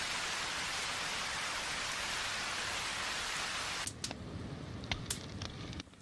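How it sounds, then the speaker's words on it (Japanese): Rain falls in a dense, steady hiss, then thins near the end as sharp crackling pops break through, like a fire crackling close by. "雨もやみそうにないし"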